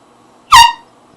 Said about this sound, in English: you just woke up via air horn